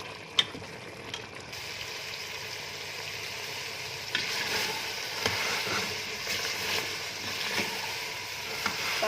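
Mutton frying in ghee over a medium flame, sizzling steadily with a dense crackle, while a utensil scrapes and stirs the pan in scattered clinks throughout, close and moderately loud with no talking.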